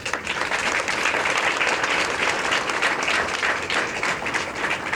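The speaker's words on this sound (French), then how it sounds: "ces vaillants messieurs, méritent véritablement nos applaudissements" An audience applauds retirees at a ceremony celebrating them, a sustained, close, dense burst of many hands clapping together with no pause.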